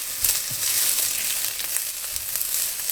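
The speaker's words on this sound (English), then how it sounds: "So our onions are just, like I say, slowly cooking away." Onions sizzle slowly in a pot for a one-pot pasta, giving a steady, bright crackle with small pops scattered through it and no voice over the top.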